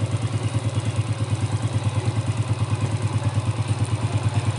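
A motorcycle engine idles steadily close by, its low, even pulsing thump repeating quickly and regularly with a light mechanical clatter over it and no talking.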